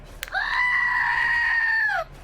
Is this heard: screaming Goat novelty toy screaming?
yes